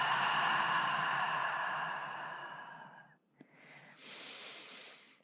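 A slow, deep breath during a guided relaxation exercise: a long, steady exhale that tapers off over several seconds, followed by a brief pause and a softer airy inhale, close and unhurried.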